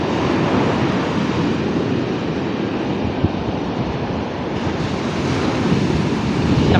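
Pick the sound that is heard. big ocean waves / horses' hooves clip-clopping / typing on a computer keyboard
big ocean waves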